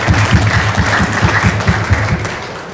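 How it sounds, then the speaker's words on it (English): A crowd at an African awards ceremony breaks into loud applause, a dense wash of clapping from many hands that fills the room and slowly fades. "Please give them a big round of applause."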